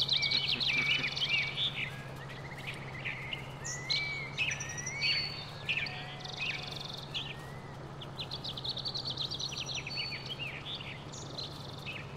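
Small birds twitter and chirp outside next to a window, overlapping bright calls and trills carrying on throughout over a constant low background hum, with no voices.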